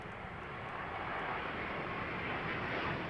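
An American airliner in from Dallas-Fort Worth arrives on runway 09L at London Heathrow, its engines giving a steady, moderately distant broadband roar that holds evenly throughout.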